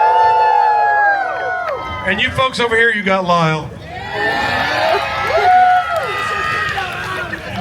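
A county fair crowd cheers and whoops for wood-chopping contestants in a burst of shouts, while an announcer's amplified voice talks over the noise before and after.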